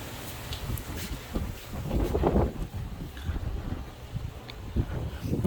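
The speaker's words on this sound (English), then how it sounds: "You hear the wind now?" Gusty outdoor wind buffets the microphone in uneven surges, swelling loudest midway and then easing, with a few faint background knocks and no clear talk.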